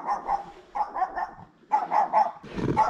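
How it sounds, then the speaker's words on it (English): A village dog in a Czech village barking in quick bursts of two or three woofs, close by and fairly loud, with short pauses between the groups. "That's a Czech village dog, by the way."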